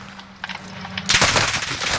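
Video game gunfire erupts loudly after a second of quieter game ambience, a dense burst of close automatic shots that runs to the end.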